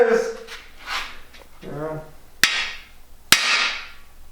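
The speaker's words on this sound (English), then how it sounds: "Go ahead and give it a couple whacks" Hammer driving on engine cam bearings, two sharp, loud metallic whacks about a second apart, up close, with voices talking before and between them.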